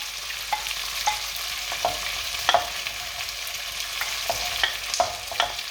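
Red peppers, carrots, tomatoes and cabbage go into a pan with onions for a restaurant-style Indian lamb curry, stirred with a steady sizzling hiss and a series of sharp clinks of utensil against pan, with no talking.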